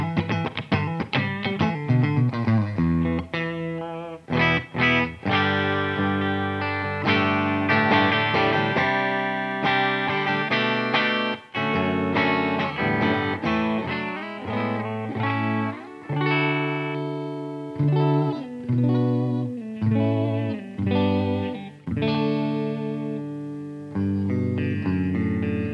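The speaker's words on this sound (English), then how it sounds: "Some distortion to end with, because it just sounds so bloody fantastic." A Jackson SLX DX Soloist electric guitar is played with heavy distortion, loud sustained chords and riffs ringing out with brief pauses between phrases, alone without talk.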